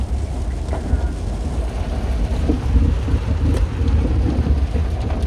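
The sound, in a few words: rain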